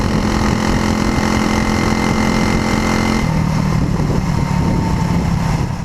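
Custom lawn mower engine with a TAV2 Comet torque converter clutch and straight pipe exhaust, running loud and steady nearby, its tone dropping to a lower idle partway through.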